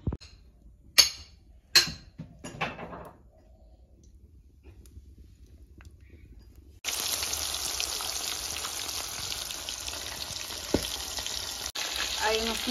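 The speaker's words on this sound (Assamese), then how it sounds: "এইফালে চিতল মাছ ভাজিছোঁ আৰু তেল ভাজি মাছ দি দিছোঁ" Pieces of chitol fish hit hot oil after a few sharp clatters, then a loud, steady sizzle and crackle fills the remaining seconds, close and continuous with an occasional pop.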